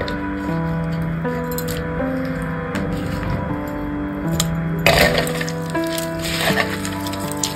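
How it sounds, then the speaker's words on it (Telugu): Fish being hand-mixed with tomatoes, green chillies and coriander for a Telugu fish curry (chepala pulusu): soft wet squishing and squelching, close and steady, under background music. "ఇప్పుడు ఇవన్నీ బాగా మిక్స్ చేసుకోవాలి"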